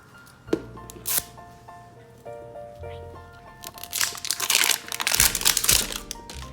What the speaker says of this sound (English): I'm gonna open the pet first. So I'm just gonna rip off the first part.